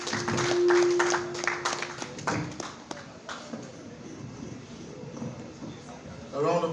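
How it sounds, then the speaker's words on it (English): Audience clapping after a digital marketing presentation on frozen products, a brief ragged round of hand claps from a modest group in a room, quickly tapering off into murmur. "A round of applause again"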